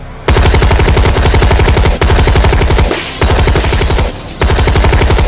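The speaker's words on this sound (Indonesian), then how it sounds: "Suara letusan senjata memekakkan telinga, kaca-kaca pecah" Loud, rapid automatic gunfire rattles in long sustained bursts, broken by a few brief pauses, very close and overwhelming.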